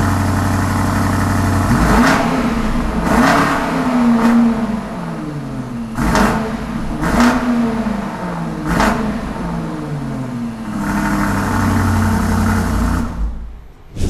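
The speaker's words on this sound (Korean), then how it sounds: "요 배기음 한번 들어볼게요." A BMW X5 M50i's V8 exhaust roars through several sharp revs, each climbing and falling back to a deep burbling idle, loud and close, with no talking.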